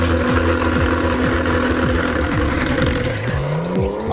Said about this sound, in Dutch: dat je hoort die turbo's wel fluiten